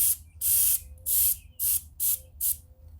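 Cheap handheld sprayer misting glaze onto pottery in five loud hissing bursts, each roughly a third of a second long with short quiet gaps between, close to the microphone.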